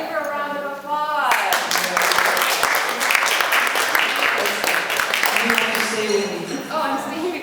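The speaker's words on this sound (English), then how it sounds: "Evelin Lindner, give her a round of applause" A conference audience gives speaker Evelin Lindner a round of applause at an opening ceremony at Boğaziçi University, a burst of lively clapping that follows a voice, holds strong for several seconds, then tapers as talk resumes.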